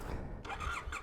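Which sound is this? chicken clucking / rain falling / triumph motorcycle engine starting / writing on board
triumph motorcycle engine starting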